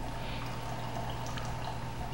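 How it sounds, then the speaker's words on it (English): An iCoffee Opus coffee maker brews steadily, with a continuous low hiss and trickle of coffee pouring into a cup under a constant machine hum. "it illuminates blue over by the water reservoir where your cup is and the coffee is pouring"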